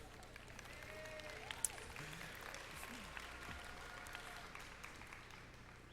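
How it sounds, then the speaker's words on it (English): Steady applause from an audience at a 2016 Governor Mifflin high school commencement, a continuous wash of clapping from a large crowd, moderately loud and even throughout with a few sharper claps standing out. "Yeah, everybody's clapping for that,"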